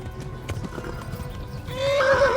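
Horse in the video game Kingdom Come Deliverance: quick hoofbeats pound through the first part, then a loud, close whinny rises and wavers at the end.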